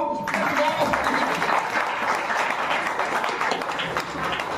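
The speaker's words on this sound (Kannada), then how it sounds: "ಜೋರಾದ ಚಪ್ಪಾಳೆ ಬರಬೇಕು" Loud audience applause at a Yakshagana stage performance during an honouring ceremony, a dense steady wash of clapping filling the whole stretch with no pauses.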